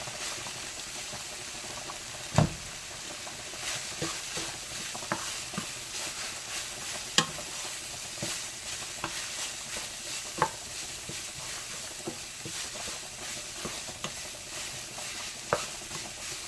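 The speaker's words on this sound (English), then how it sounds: "we're going to just stir that up" Stirring a meat sauce seasoned with Italian seasoning and oregano in a frying pan for chunky three-meat spaghetti, with steady soft sizzling and frying broken by a few sharp clicks of a utensil against the pan.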